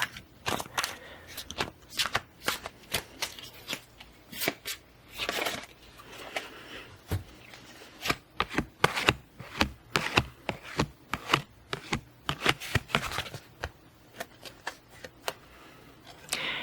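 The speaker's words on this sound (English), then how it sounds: "been shuffling these cards off camera" Tarot cards being shuffled close up, a quiet stream of irregular riffling and tapping bursts, with no talking.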